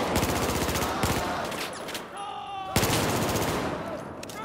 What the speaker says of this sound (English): Good shooting, Rucker!